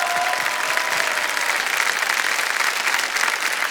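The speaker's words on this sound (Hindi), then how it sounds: "एक बार फिर जोरदार तालियां इनके लिए।" A studio audience on a TV quiz show breaks into loud, sustained applause, a thick continuous roar of clapping hands close by with no pauses.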